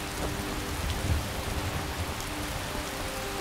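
Steady rain falls in the video game Skyrim as a constant, even hiss with soft low patter, continuous and moderately loud throughout with no voices.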